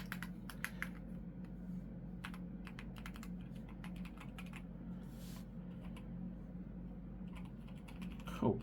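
Keystrokes on a Keychron Q5 HE mechanical keyboard rattle in quick, uneven bursts of close clicks and clacks, with short pauses between runs, over a steady low background hum.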